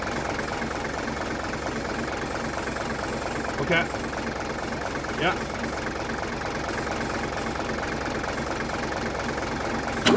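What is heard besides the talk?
Mercedes-Benz W123 250 engine idling after 17 years parked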